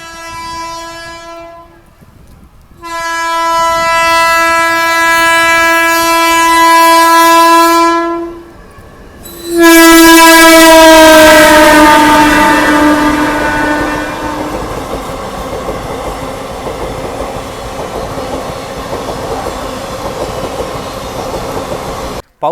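A passenger train at Akkalkot railway station, a small station with two main lines and two loop lines, sounds long, loud horn blasts with a short break between them. The rumble of the rolling train follows, with no talk.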